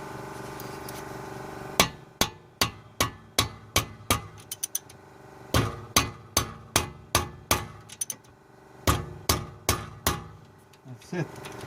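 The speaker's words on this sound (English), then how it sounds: "Hammer it until you can't hammer it anymore." A hammer strikes rear brake parts on a Lexus IS in three runs of rapid, evenly spaced metallic blows with short pauses between, sharp and close.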